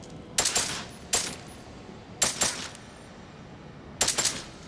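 Weapon fire at targets in Deus Ex: Mankind Divided, four separate sharp bursts of shots spread over a few seconds, each a quick double crack with a short ringing tail over a quiet background.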